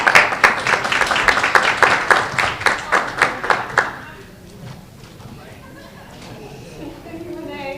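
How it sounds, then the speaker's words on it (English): A conference audience at a parent and policy event gives a round of applause, a run of loud, synchronized rhythmic claps that stops abruptly partway, leaving quiet room murmur and faint talk. "Let's give them a round of applause."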